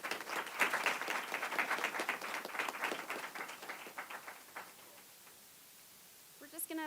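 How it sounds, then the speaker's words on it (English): An audience at a health policy event on food as medicine claps for several seconds, the applause thinning and dying out, followed by a brief voice near the end. "Give him a round of applause, please."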